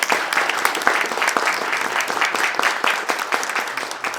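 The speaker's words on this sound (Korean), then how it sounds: "뜨거운 박수 부탁드리겠습니다" Warm applause at a New Year forum, a close, continuous patter of many hands clapping steadily for several seconds with no talking.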